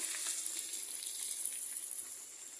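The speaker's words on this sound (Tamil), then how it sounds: "பூண்டு பேஸ்ட் போட்டுட்டு நம்ம தக்காளி போட்டுக்குவோம்." Garlic paste and tomatoes frying in a pan give off a steady, hissing sizzle that stays even throughout, close and soft, with no voices over it.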